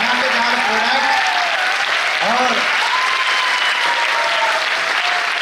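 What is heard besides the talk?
loud applause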